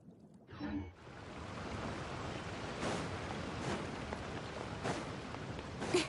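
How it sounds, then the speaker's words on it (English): Ocean waves wash against a harbor port in the video game Genshin Impact, a steady soft surf hiss with gentle swells rising every second or so, faint and unbroken. "The sound of the waves in this familiar port."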